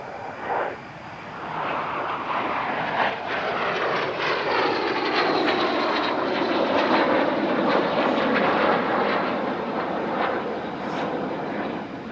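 An L-39 jet trainer flies past at the Air Legend Paris-Villaroche airshow, a loud sustained engine roar that swells and shifts in pitch as it passes, heard without speech.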